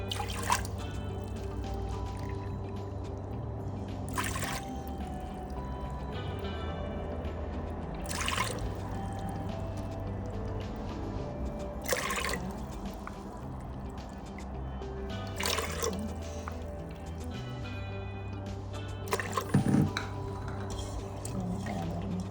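Water pouring and trickling into an Instant Pot bowl for moong dal and rice khichdi, a continuous low splashing with a few sharp clinks, fairly quiet, with no talking.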